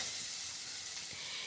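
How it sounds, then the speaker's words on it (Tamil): Masala of home-ground chilli powder and salt sizzles and fries steadily in a pan for an egg fry, a continuous close hiss with no pauses. "நல்லா வதக்கிக்கோங்க."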